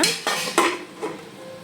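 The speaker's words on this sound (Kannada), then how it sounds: "ಸೊ ಇವಾಗ ಸ್ವಲ್ಪ ಲಿಡ್ ಮುಚ್ಚೋಣ" A metal lid set down onto a cooking pot of onions for chicken palav, giving a few close, sharp clanks and rattles that ring briefly and fade, with no talking.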